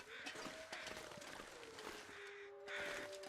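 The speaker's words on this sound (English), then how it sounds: "Crows are circling the wolf that I killed now." Crows caw repeatedly in the snowy wilderness of the video game The Long Dark, over a steady wind-like ambience, with a faint tone running underneath.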